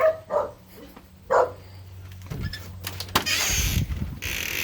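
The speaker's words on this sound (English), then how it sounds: "There go the dogs." Dogs at a house bark in a few sharp, moderately close bursts near the start, followed by clattering and rustling movement.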